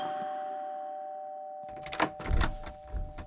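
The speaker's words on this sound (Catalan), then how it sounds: "Truques al timbre i et presentes" A doorbell rings at a front door, one clear ding-dong with a steady tone over a quiet start, then louder knocks and door noises follow.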